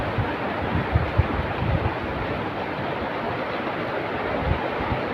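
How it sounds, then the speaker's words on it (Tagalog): Strong wind roars continuously, buffeting close and loud with occasional gusty thumps, no voices. "Wow, lakas ng hangin."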